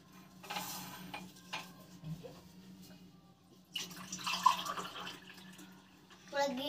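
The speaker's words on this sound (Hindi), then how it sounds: "तो इसको क्या करना है कि 1 कप लीजिए, इसमें छान देना है।" Lemon water with honey is strained into a cup, bringing soft bursts of pouring liquid and light clinks of utensils against the cup at close range, with a low voice in the background.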